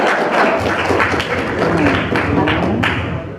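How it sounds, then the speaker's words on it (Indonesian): An audience at an Indonesian religious lecture breaks into steady, dense applause, a close wash of many hands clapping that runs throughout, with some voices mixed in. "tepuk tangan dong."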